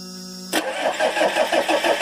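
A 4-cylinder Kubota diesel engine cranks and cold-starts with a sudden loud catch after a steady tone, then settles into a rough, pulsing idle with rhythmic diesel knock, heard close and alone.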